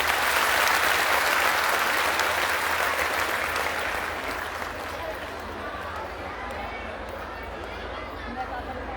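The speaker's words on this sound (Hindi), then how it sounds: "आपकी तालियां बजाएंगे, आप कितनी मोहब्बत उनसे करते हैं" Dense crowd applause for Thakur MLA Sangeet Singh Som at a Ram Katha closing event, loud and sustained at first, then easing slightly while continuing steadily to the end.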